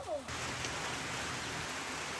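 Steady rain pours down around a leaky hut in the Philippines, a dense continuous hiss that fills the whole stretch after a brief faint voice at the start.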